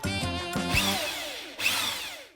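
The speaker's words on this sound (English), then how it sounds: "Mark drills holes in the lamp for the legs to fit through" A power drill bores holes into a metal road lamp, its motor whining and rising in pitch in two bursts with a brief pause between, loud and close with no talk.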